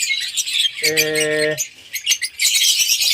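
Pet diamond doves call, with one steady, tonal coo lasting under a second set against a busy background of high chirping from other birds nearby.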